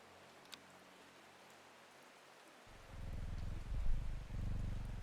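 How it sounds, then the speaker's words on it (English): A cat purrs in the Strange Horticulture video game, starting partway through as a low, steady rumbling close up over faint rain-like background hiss. "I don't know if you can hear the purr."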